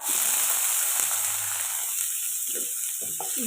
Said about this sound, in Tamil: கருவேப்பிலை கொஞ்சம் பொரியட்டு